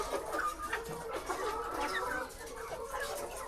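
Many laying hens in cages on a layer chicken farm cluck and squawk in a dense, continuous chorus that sounds close and busy. There is no speech.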